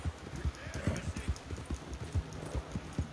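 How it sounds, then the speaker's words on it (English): Horse hooves clip-clop in Red Dead Online, a loud, quick, irregular run of close hoof strikes on hard ground across the whole stretch, with faint game voices in the background. "Damn horses."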